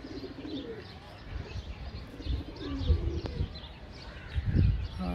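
Soft pigeon coos rise and fall close by, mixed with faint chirps and a low murmur of background noise.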